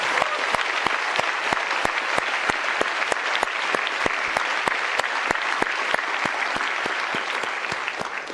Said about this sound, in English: Let's give a huge round of applause to acknowledge all of our participants this year.